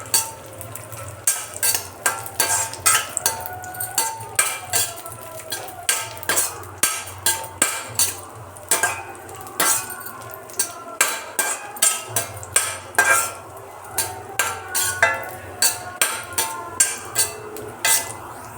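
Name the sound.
yellow raisins being roasted and stirred in ghee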